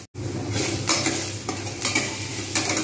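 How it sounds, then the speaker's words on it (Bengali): Potatoes fry in a hot pan with a steady, close sizzle, broken by several scraping stirs of a utensil against the pan. "তাই আলুটা আমি একটু দিয়ে আগে থেকে ভাজতে থাকবো"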